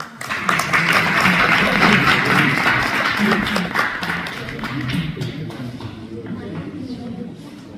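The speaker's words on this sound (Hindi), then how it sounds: "अनवर बीबी साहबा के लिए बहुत सी तालियां जी" Audience at a community event clapping for a participant, dense applause with crowd chatter and voices mixed in, loud at first and gradually fading.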